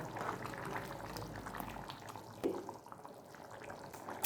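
Peanut kara kuzhambu, a tangy Tamil tamarind curry, bubbles steadily in a pot, giving a faint continuous simmering hiss with occasional soft pops and no voices.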